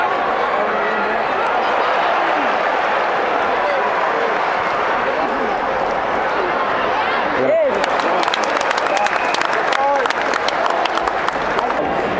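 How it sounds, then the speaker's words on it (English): A crowd at an Aussie Rules football game in Melbourne claps over a dense wash of stadium noise and chatter, and the applause turns crisper and more distinct partway through. "We'll give him a clap for that."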